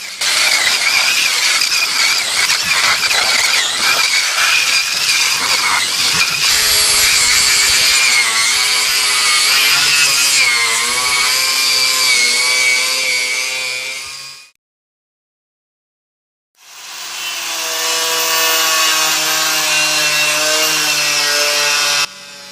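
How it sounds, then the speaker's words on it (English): A wire brush scrubs loud and close on the underseal and rusted body of an 80s Honda CR-X, a harsh continuous grinding with shifting squealing tones, briefly cutting out before resuming. "one touch with the wire brush and I have rust holes appearing already."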